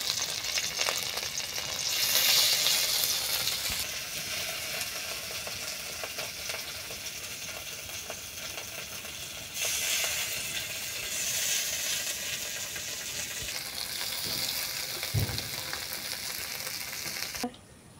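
Green chilli fritters fry in oil, producing a dense, continuous hiss and sizzle that swells and eases over time, heard close with occasional faint clinks and no talking.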